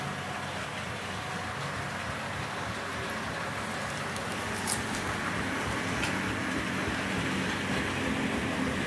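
An HO scale model train rolls around a layout with a steady, continuous rumbling hiss of wheels on track, even and unbroken, with a couple of faint higher clicks partway through.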